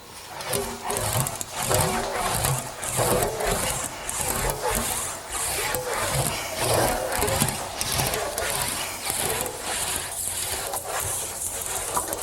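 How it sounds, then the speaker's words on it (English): An English wheel rolls over low-crown sheet metal being smoothed on a very light setting, giving a rhythmic, repeated scraping rumble with regular clunks as the panel is pushed back and forth, close and steady. "you're going to hear a clunkety clunk noise"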